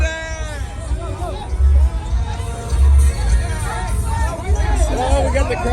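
A large crowd at a Houston truck meet roars and cheers in a loud, continuous wall of voices, with shouts rising in surges over a low rumble of engines.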